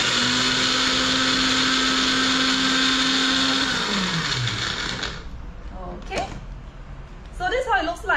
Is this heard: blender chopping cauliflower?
yes